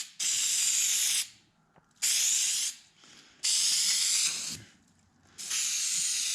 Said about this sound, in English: We're putting spray glue,